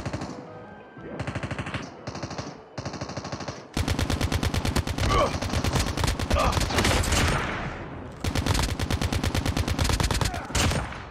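Call of Duty Mobile gunfire rattles in long rapid automatic bursts, several volleys separated by brief pauses, loud and close.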